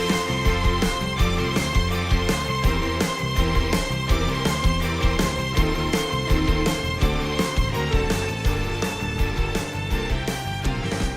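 Floria Fields racetrack music from the Kirby Air Riders racing game: a bright, busy full-band track with a steady driving beat, playing loud and continuous throughout.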